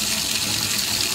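Water runs steadily down an unclogged bathtub drain in a brief, even rush of flow at close range, with no voices.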